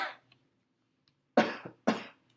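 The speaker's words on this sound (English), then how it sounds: "I just want you to cough for me" Two sharp, close coughs in quick succession during an oral mechanism exam, each a short loud burst with a brief tail, preceded by a faint breathy sound and quiet pauses.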